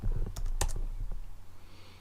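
Typing on a computer keyboard, a quick burst of close, crisp key clicks in the first second that then fades to a quiet room hum.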